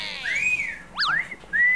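Whistled tones rise and fall in a lively melodic phrase at a Thai market food stall, with short gliding notes, a brief pause, then a final sustained note, fairly close and clear.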